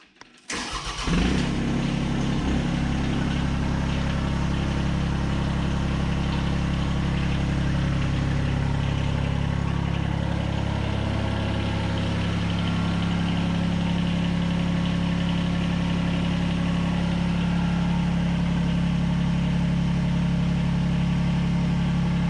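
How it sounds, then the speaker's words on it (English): A mini excavator's Japanese-made Yanmar diesel engine cranks and starts, then settles into a steady, loud idle with a low rumbling drone that continues without change. "it does have a Japanese-made Yanmar diesel engine"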